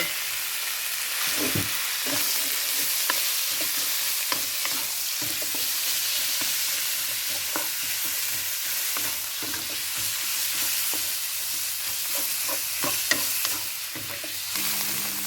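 Pork sizzles steadily in a pan with a fried paste of garlic, coriander root and pepper, giving a continuous loud frying hiss broken by repeated scraping stirs throughout.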